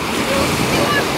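Sea surf rolls onto a beach at Golubitskaya on the Azov coast, a steady broad wash of waves mixed with wind noise on the microphone, loud and continuous.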